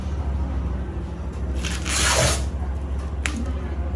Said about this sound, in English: And then you can peel up this excess.